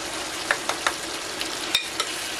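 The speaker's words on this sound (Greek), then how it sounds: "Ανακατεύουμε." Meat with tomato paste in a pot sizzles steadily while a utensil stirs it, giving several scattered scraping clicks and taps against the pot, close by and with no talking.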